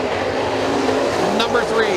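Race cars roaring around the McKean County Raceway dirt oval during heat races, a dense continuous engine wash with a passing whine, loud and steady under an announcer's commentary.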